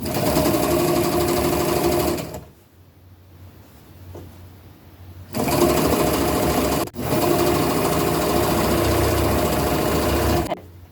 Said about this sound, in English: We're going to sew all the way down.